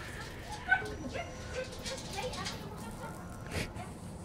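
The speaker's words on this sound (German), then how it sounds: "Meine Frau ist gerade nach Hause gekommen. Der Hund flippt aus." A pet dog at home whimpers, yips and gives short excited barks as the owner's wife arrives, faint and fairly distant, with someone talking over it.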